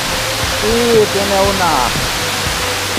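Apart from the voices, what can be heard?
large waterfall, about 25 metres, Finca Santa Emilia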